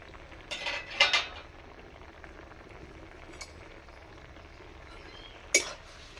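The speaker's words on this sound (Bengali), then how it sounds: "দেখুন ঢাকাটা খুলে দেখি" A metal lid clinks against a cooking pot as it is lifted off boiled onions for paneer malai kofta curry, with a couple of close clattering knocks early on and a sharper clink near the end.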